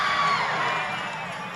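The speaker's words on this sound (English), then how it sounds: "Well, that's just crowd." A recorded concert crowd cheers in a brief, dense wash of voices and whoops, steady and loud before easing slightly.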